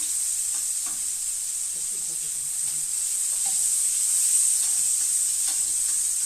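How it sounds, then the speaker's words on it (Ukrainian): Smelt coated in flour and breadcrumbs frying in hot oil gives a loud, steady sizzle, with scattered crackles and pops throughout. "Якась олія така попалась, то ж кварчить дуже."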